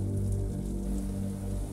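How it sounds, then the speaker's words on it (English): Gentle rain patters on the fabric of an oversized black umbrella, a soft, steady sprinkle sitting under a low, sustained humming drone. "You hear the rain gently patter upon the fabric of the umbrella that perfectly hovers over you"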